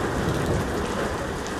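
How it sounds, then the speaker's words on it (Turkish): Steady rain pours onto an Istanbul street in March, a dense, even hiss of drops spattering on pavement with no pauses or voices. "İlla ki bu yağmura yakalanacaktı."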